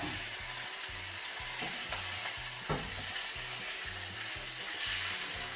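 Venison and lamb liver fry in a hot pan with a steady, dense sizzle that runs the whole time, close and loud, with a faint tap or stir near the middle and no voices.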